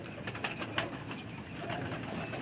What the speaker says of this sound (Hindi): कबूतर नीचे उतरना शुरू हो गए